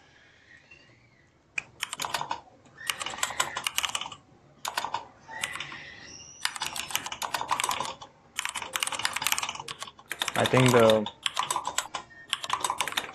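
Rapid bursts of computer keyboard typing during a live coding session, steady clattering keystrokes in close, loud runs with short pauses, with a person speaking briefly over it.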